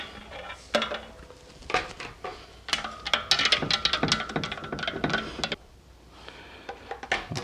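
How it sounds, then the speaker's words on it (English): A spoon stirs a water and sugar mixture for homemade hard seltzer in a container, close, irregular clinks and scrapes in quick bursts with a short pause before resuming. "Now, I'm going to stir it again."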